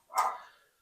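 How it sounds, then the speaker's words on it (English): A pet dog gives a single sharp bark indoors, loud and close, trailing off quickly into quiet. "my dog is barking"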